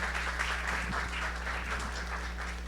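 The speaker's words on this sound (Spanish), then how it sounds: "un fuerte aplauso." Audience applause at a Spanish-language panel discussion on peace, a short burst of steady clapping at moderate distance with no talk over it.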